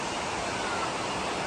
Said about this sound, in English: This is a stunning waterfall. Natural water coming down from the mountains.